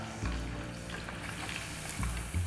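Potato fries crackle and sizzle in hot oil, a steady dense frying hiss with soft low bumps, close and fairly quiet with no talk.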